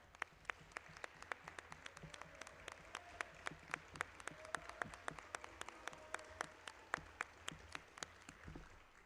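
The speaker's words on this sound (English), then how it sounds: "I'd love to give them a round of applause as well." Scattered applause from a small audience at a student business pitch night, distinct hand claps in a fairly steady rhythm at moderate distance, with no talking.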